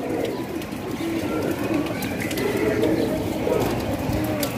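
Sirajee pigeons coo close by in a continuous, layered murmur of soft, throaty calls, with faint background noise.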